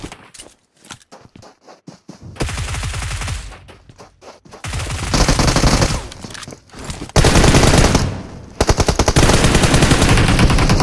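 PUBG Mobile gunfire comes in loud, rapid automatic bursts. Sparse single shots and shuffling come first, then long sustained volleys of machine-gun fire with short pauses between them.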